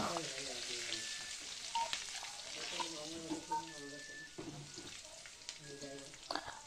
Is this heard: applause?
no